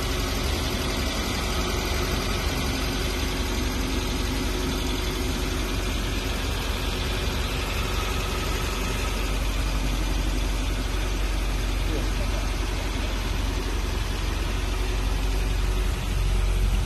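The engine of a 1974 Peugeot pickup with a clutch fault idles steadily and close, producing a continuous rough mechanical rumble and clatter that holds level throughout with no voices.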